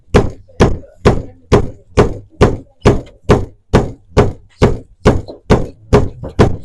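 A homeopathic remedy vial is struck firmly against a leather-bound book, giving about fifteen loud, evenly spaced thuds in a steady rhythm, close up, with no talking.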